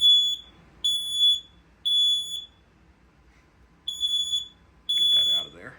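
Smoke detector on zone 3 sounding a fire alarm system test, emitting three loud, evenly spaced shrill tonal blasts, then a pause and two more blasts, with faint room noise between.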